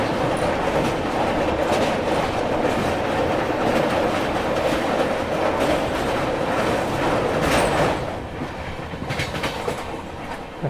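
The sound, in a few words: Shatabdi Express train running fast on rails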